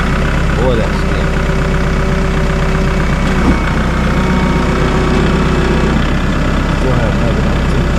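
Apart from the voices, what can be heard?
farm vehicle engine idling in cold weather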